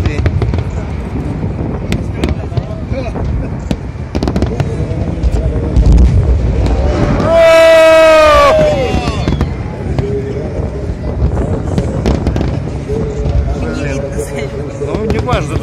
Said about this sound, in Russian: Это просто салют. Зенитные, наверное, холостые.